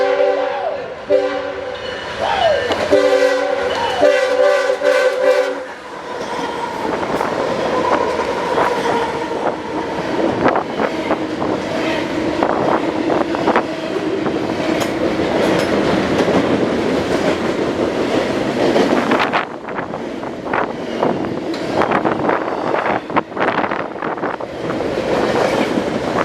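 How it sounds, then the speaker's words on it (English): A BNSF westbound freight train rumbles past up close, its loud horn blaring in sustained chords at the start, followed by steady rolling wheel noise and rattling cars. "this is our last train of the day, a BNSF westbound"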